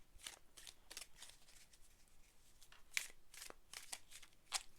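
A tarot card deck being shuffled by hand, a series of soft, quick riffling bursts repeating in uneven rhythm, close and quiet, with no talking.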